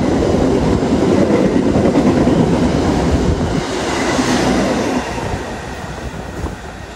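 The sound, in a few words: passenger train passing through station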